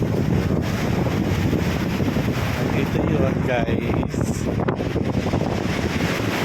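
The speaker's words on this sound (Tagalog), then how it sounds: "Grabe, kahangin talaga. Mahangin talaga." Strong wind buffets the microphone in a constant roar on a beach after a typhoon, with a person speaking briefly over the gusting noise.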